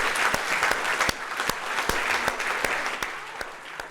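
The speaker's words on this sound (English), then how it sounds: "One more giant applause for David." Audience applause at the close of a talk on sports technology, a dense steady clapping from a large crowd that carries on throughout, with sharp individual claps standing out near the front.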